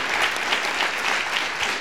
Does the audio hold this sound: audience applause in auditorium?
yes